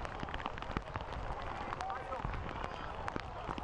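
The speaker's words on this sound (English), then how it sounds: "You can hear that rain falling down and see on the camera lens." Rain falling during a rainy Saturday night soccer match in Colorado Springs, a faint steady patter with scattered drips and distant crowd murmur beneath.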